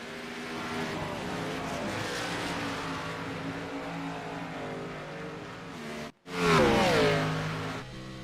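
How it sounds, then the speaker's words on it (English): Race cars at Watkins Glen scream through the carousel, a loud, sustained engine whine with shifting pitch that breaks off for a moment, then returns as another car roars past close by. "The 7 of John Peel runs wide through the carousel"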